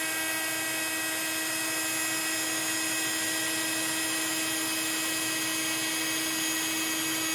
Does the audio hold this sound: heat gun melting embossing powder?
yes